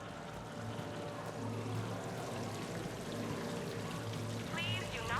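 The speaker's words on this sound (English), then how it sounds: "Please do not touch the waterfall" A casino waterfall in Mass Effect 3 pours steadily as a constant rushing wash, with murmured background chatter and a low hum beneath it.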